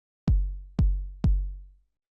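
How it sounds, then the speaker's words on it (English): Three dry Roland 909 drum-machine kicks, each a sharp click followed by a deep, smoothly decaying boom, evenly spaced with silence around them. "Just like a really standard 909 kick."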